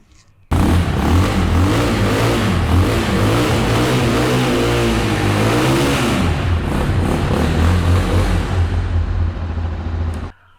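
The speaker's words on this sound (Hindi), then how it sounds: "इसका एग्जॉस्ट नोट सुनते हैं" A Fuego Tekken 250 adventure motorcycle with a 250cc engine and dual exhaust revs loudly and steadily for about ten seconds, its pitch rising and falling with throttle blips before cutting off near the end.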